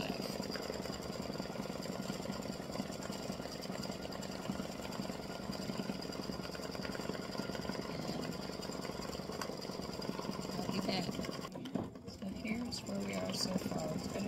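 An embroidery machine runs steadily, stitching a satin stitch around the paw pads of an Easter bunny design, with a continuous buzzing whir and a brief dip near the end.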